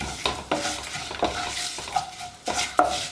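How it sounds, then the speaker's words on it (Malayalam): Turmeric and Kashmiri chilli powder stirred into hot oil in a pressure cooker while making sambar, with a spoon scraping the pot in regular strokes over a steady close sizzle. "ഇത്രയും ചേർത്ത് ഒന്ന് ഇളക്കുക."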